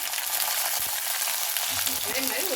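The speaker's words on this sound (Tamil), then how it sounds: "இப்போ வெங்காயம் வதங்கணும்" Garlic, shallots and sliced onions frying in a pan for a spicy chutney, a steady dense sizzle close up with faint stirring, a voice briefly audible near the end.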